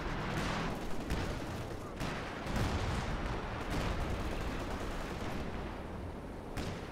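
An M7 Priest self-propelled artillery piece fires in a Company of Heroes D-Day match, heard as a string of faint, distant thuds and booms spaced a second or two apart under low background rumble, with quiet voices talking in French.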